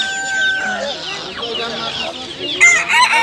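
Many chickens cluck and squawk continuously at a busy, crowded poultry market, with a rooster crowing and people talking in the background.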